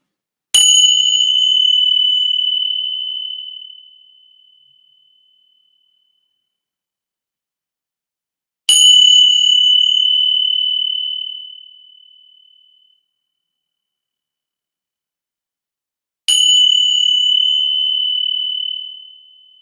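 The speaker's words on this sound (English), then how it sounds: "I'm going to ring my meditation bells 3 times" A bell rings three times, each clear, sustained tone slowly fading into silence before the next strike.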